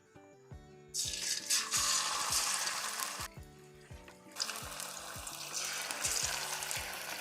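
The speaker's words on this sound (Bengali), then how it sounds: "সব পকোড়াগুলো ঠিক এইভাবে ভেজে নেব" Semolina and potato pakoras fry in hot oil, a bright hissing sizzle that swells, drops away briefly, then surges again, heard over soft background music without speech.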